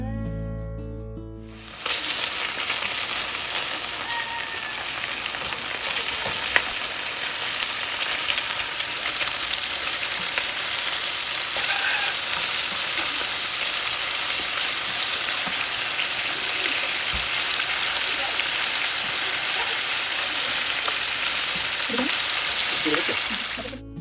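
Chicken pieces for chicken korma fry steadily in a pan, a dense, even sizzle and crackle that starts after a brief quiet moment and continues loud and close for the rest of the time, with no talking.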